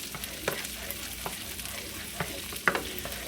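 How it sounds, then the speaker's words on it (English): Garlic butter is stirred in a hot, sizzling pan, with a steady frying hiss broken by a few soft scraping stirs, close and moderately loud. "Go ahead and give this a nice little stir"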